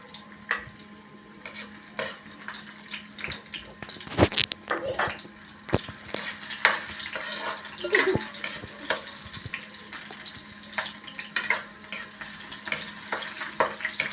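Garlic and onion sizzling in a pan for ginataan, a steady crackling fry close by with occasional clinks and stirring scrapes of utensils against the pan.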